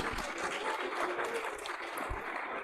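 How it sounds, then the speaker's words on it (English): An audience at a talk claps in steady, dense applause throughout, moderately loud and continuous with no speech over it. "I know why you are clapping."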